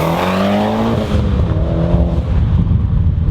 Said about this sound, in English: the boost hits and you let off the throttle and it goes through the blow-off valve